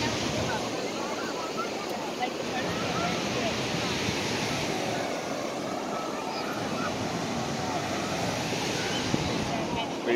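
Ocean surf rolls steadily at Newport Beach, California, a constant broadband wash of waves with wind noise, moderately loud and unbroken.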